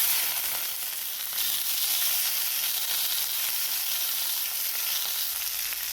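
Green chilies roast in hot oil in a pan, giving a steady, close sizzle and crackle of frying that runs unbroken from start to finish with no voices.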